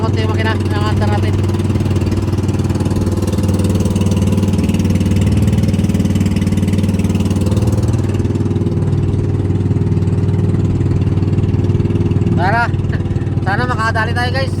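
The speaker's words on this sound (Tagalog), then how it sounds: "Kaya medyo tinastasan ko ng konti yung makina ng andar natin." A motor engine hums steadily at dusk, its drone sped up slightly, with a deep continuous rumble throughout and a few brief chirping sounds near the end.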